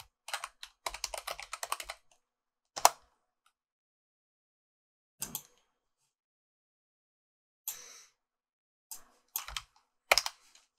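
Computer keyboard keys clatter in a quick burst at first, then fall into sparse, scattered clusters of presses separated by pauses, close and fairly crisp with no voices.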